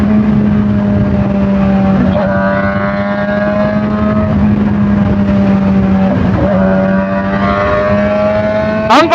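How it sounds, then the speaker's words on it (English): Supercharged Kawasaki ZH2 motorcycle engine droning loud and close under acceleration, with pitch rising through gears and brief dips at shifts, plus wind roar. "Now it has a real pop when you change the gears."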